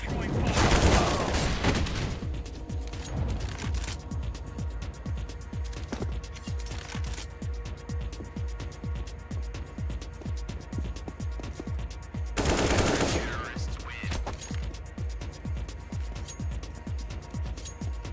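Video game firefight with steady rhythmic machine-gun fire throughout and two louder bursts that could be a grenade, with a voice talking over the shooting.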